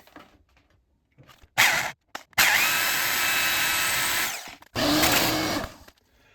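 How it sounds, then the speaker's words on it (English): A power drill whines loudly in bursts while boring a hole in metal on a Precision Matthews PM 1228 lathe, a short spurt then a long sustained run and another burst, with quiet pauses between, close by. "Continue drilling that hole."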